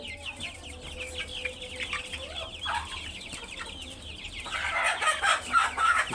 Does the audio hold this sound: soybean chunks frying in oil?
no